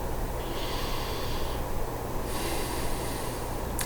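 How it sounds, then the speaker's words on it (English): Slow deep breaths drawn in and released through the nose during a guided meditation, a soft airy hiss in two or three long swells over a low steady hum, close and without talk. "And just take a couple of deep breaths."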